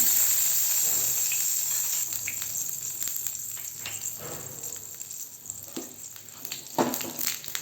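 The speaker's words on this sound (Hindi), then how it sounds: "तेल गरम है, 2 पत्ते डालेंगे हम।" Two bay leaf pieces sizzle in hot oil, a soft steady hiss with occasional small crackles and light taps, quiet and close with no talking.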